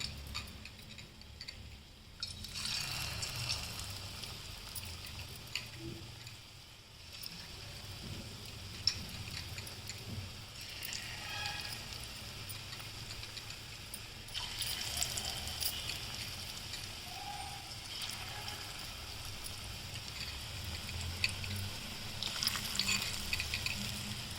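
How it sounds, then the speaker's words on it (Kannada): Sesame-coated paneer pakoda frying in hot oil gives a soft, steady sizzle and crackle that runs throughout, fairly faint and with no talking. "ಎಣ್ಣೆ ಕಾಯ್ತಾ ಇದೆ ಅಲ್ವಾ ಆ ಎಣ್ಣೆ ಕಾದಿರೋದಕ್ಕೆ ಹಾಕ್ತಾಯಿದ್ದೀನಿ"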